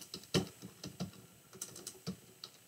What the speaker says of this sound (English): here I can start typing in my